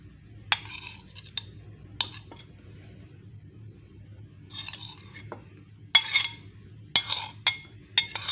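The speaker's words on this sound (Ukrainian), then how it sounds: "І знов рибку. І решту засмажки наверх." A spoon clinks and scrapes in a pan as fried vegetable topping is laid over pike in tomato sauce, producing sparse, sharp metallic taps separated by quiet pauses.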